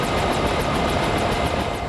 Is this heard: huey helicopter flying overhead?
yes